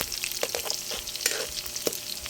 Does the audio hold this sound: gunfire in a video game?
no